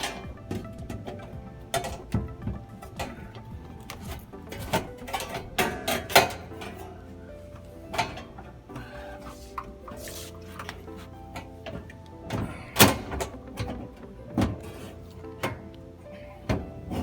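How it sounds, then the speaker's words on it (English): A metal shroud is slid into place on a refrigeration unit during a swap from the V4 to the V5 model, giving scattered close metallic clanks, scrapes and knocks over a low background hum. "you grab the shroud, the metal shroud, and then you slide it in"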